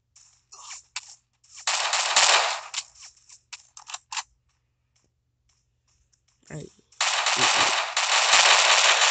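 Rapid bursts of video game gunfire crackle up close in a shooter match, several loud volleys separated by gaps, with a player talking between them.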